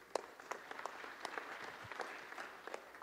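An audience at a conference session on financing sustainable development applauds, a quiet, steady patter of many hands clapping from some distance, with no talking over it.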